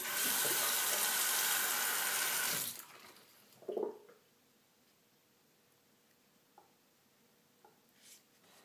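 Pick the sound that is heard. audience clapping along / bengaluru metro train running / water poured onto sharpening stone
water poured onto sharpening stone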